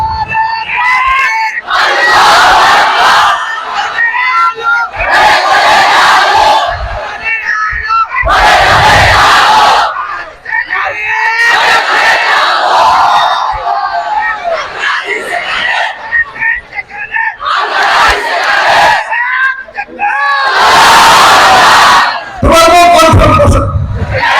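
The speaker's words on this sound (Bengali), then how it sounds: "যে কোনো একজন জোরে সোরে দাও তাকবীর" A crowd at an Islamic mahfil gathering in Chapainawabganj roars out takbir together in about seven loud, separate collective shouts, each one rising sharply and then falling away into brief pauses.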